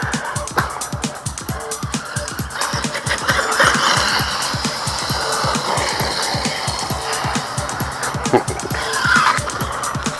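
A RedCat Racing Shredder v.2 RC car drives and skids continuously, its motor whining with rapid ticking pulses and tire scrubs, fairly loud throughout.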